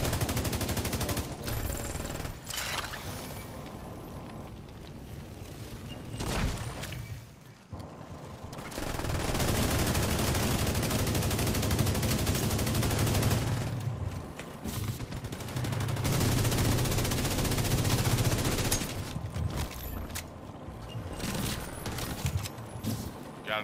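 Sustained turret gunfire in a Division 2 Dark Zone PvP firefight, long loud bursts of rapid automatic shots with brief pauses, close and dominating.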